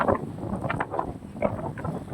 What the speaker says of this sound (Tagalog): Malakas ng hangin kasi dito tignan nyo mga kabayan.